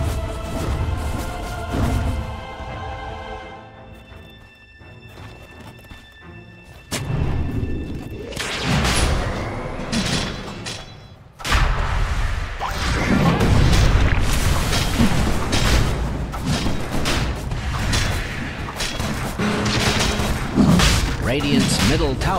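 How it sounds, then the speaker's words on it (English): Booming impacts and explosions sound as Radiant's middle tower comes under attack in a Dota 2 match, with repeated thuds and blasts under game music and effects, loudest and densest in the second half. "Radiant's middle tower is under attack."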